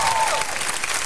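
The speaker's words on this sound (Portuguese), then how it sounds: "Vamos aplaudir Espírito Santo." A studio audience on the SBT television program Raul Gil breaks into loud, dense applause. The clapping fills the short moment with a brief tonal sound near the start.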